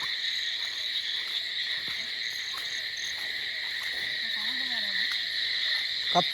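Frogs croaking in a night chorus in a flooded paddy field, with steady insect trilling throughout, a distant outdoor ambience.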